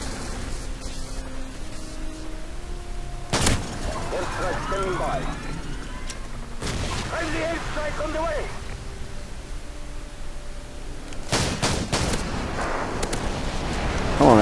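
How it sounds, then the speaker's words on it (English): Airstrike explosions land in Call of Duty 4 as a few sharp, heavy blasts spaced over a steady background of game noise, with a voice talking between them. "Come on, airstrike, do some work"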